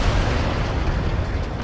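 Mortar strike explosions in the video game World in Conflict, a dense, continuous low rumble of blasts merging into one loud, sustained roar with no talking.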